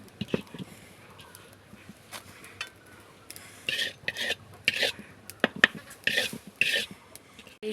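Food being stirred and turned in a cooking pan, with scattered clinks and scrapes of utensil against metal, bursts of activity growing busier toward the end, with no voices.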